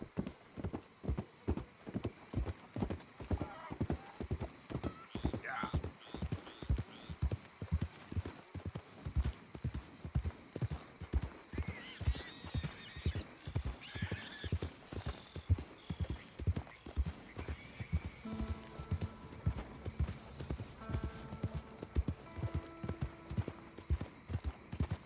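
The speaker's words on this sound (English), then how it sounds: "Hope I never have to be on that horse again, dang animals." Horse hooves clip-clopping at a steady walking pace in Red Dead Redemption 2, a continuous rhythmic series of close, distinct hoofbeats with a brief whinny, no one talking.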